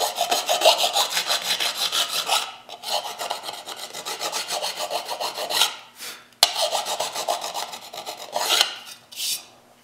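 A hand file rasps across a metal motorcycle fender being shaped with hand tools, in steady, close back-and-forth strokes that run continuously, pausing briefly twice before resuming.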